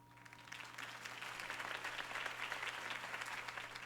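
A crowd applauds after a campaign speech by Harvey Dent in the Batman Telltale video game, with steady clapping that swells and holds, slightly distant under a low hum.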